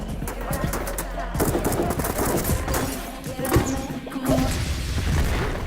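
An explosion and gunfire ring out during an action film's raid on a drug cartel hideout in an empty building in Brazil, with sharp blasts and crashing bursts over a busy, rumbling background.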